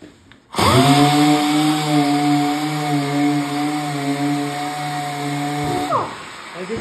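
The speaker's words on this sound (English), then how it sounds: "I'm keeping my sander flat" Air-powered sander spinning up and running steadily against a 1949 Ford pickup truck door, a loud, close, sustained whine with a hiss of compressed air, winding down at the end.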